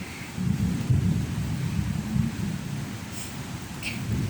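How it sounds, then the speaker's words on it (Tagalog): Heavy rain pours around a home with a vegetable and orchid garden while thunder rolls as a steady low rumble under a constant hiss, with no break for the whole stretch. "Sobrang lakas ng ulan."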